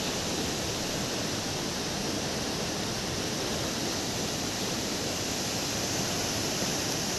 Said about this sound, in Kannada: ಉಕ್ಕಿ ಹರಿತಾ ಇದೆ ಹೊಗೆನಕಲ್ ಫಾಲ್ಸ್